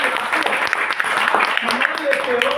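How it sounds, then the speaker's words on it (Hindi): An audience at a Swap Shop event gives enthusiastic applause, loud close clapping mixed with voices and a brief tonal sound near the end. "एक बार स्वेप शॉप के लिए जोरदार तालियां"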